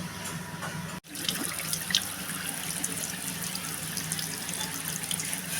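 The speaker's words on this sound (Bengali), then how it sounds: "মুখটা একটু জল দিয়ে ধুয়ে নিলাম।" Tap water runs steadily into a sink while a face is washed, a constant close rush with a brief cut near the start and faint splashy variations throughout.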